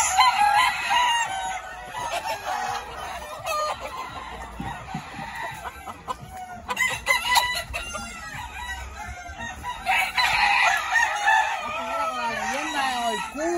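Fighting roosters crow close by, with several long cock-a-doodle-doo calls rising and falling in sequence and some clucking between them.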